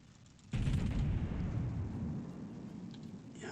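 Turret fire and explosions in the Darkwing game on a glacier map: after a quiet start a sudden loud blast hits, then a rumbling roar slowly fades, with a fresh sharp burst near the end.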